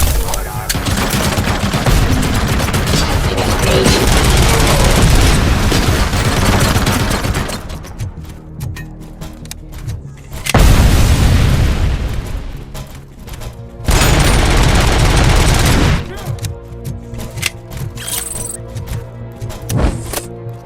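Sustained gunfire and booming explosions from the video game RoboCop: Rogue City, loud and dense for the first seven seconds, then thinner bursts and two more heavy blasts with quieter stretches between.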